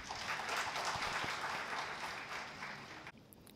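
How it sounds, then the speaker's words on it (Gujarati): An audience welcomes a guest speaker, a local legislator, with sustained applause at a Jain community Paryushan lecture event in Mumbai, a dense steady clapping from a crowd that fades out near the end. "આપણે સૌ તાળીઓથી બધાવી લઈએ."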